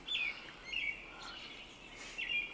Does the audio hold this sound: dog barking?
no